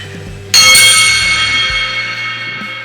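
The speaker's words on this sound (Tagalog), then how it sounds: "Pero ito yung bell." A single bell struck once, ringing out loud and bright with a long, slowly fading metallic decay and no talk.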